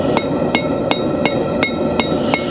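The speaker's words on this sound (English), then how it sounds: "I'm going to cut the nail using the Hardy chisel that I showed you before" A blacksmith strikes a hammer onto a nail bar set over a hardy chisel, seven sharp metallic blows falling at a steady, even rhythm, close and loud with no talk.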